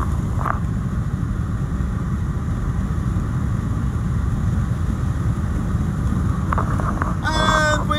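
Open-top BMW convertible cruising on a road, with a steady loud rush of wind and low engine and road roar throughout, and a brief faint tonal chirp near the end.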